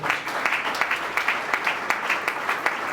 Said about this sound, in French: la jeunesse acclame très fort le roi des rois